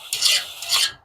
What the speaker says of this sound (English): it's just a deburr, and I'm using the drill